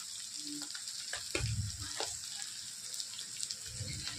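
Asafoetida hits hot oil in a pan while cooking a radish vegetable dish, giving a soft sizzle with a few brief crackles and stirring sounds, fairly quiet and close.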